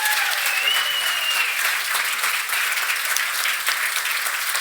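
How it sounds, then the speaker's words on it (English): An audience at a FinOps X Europe conference talk applauds at the close, a dense, steady wash of clapping that holds at an even level throughout, with a faint voice briefly audible near the start. "Give a big round of applause."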